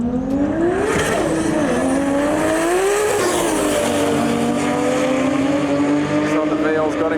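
A Toyota Supra and a Holden VL drag race, with engines roaring and revving steadily and pitch sweeping up and down as they accelerate, loud and continuous with voices faintly mixed in.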